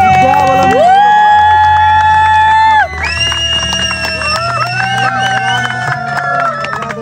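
Engagement gathering with a loud, steady crowd cheering and whooping throughout, layered over strong sustained music, while the celebratory din carries on after a brief shift partway through.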